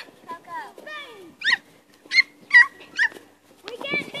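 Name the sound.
puppy barking and whimpering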